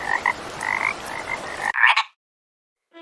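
Cartoon frog croaking in an animated fairy-tale story, a run of repeated croaks lasting over a second and a half, followed by a short louder burst and then a faint chime near the end.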